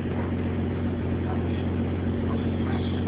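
A warmed-up Mitsubishi Eclipse 3G engine idles at around 900 rpm after an intake and IAC valve cleaning, holding a steady, even low drone with no dips or surges.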